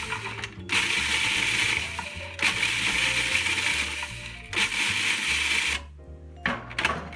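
Saltine crackers pulsed in a food processor for meatloaf: loud whirring, rattling bursts of blade and cracker noise in several short pulses with brief pauses between, close up, no talking.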